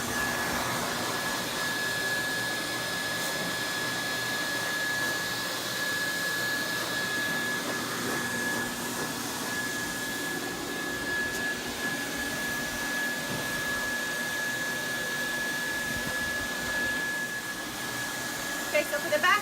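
A steady, loud blow dryer roars continuously while grooming a Samoyed dog, holding one high whining tone with no breaks.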